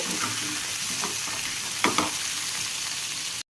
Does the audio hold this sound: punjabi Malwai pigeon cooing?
no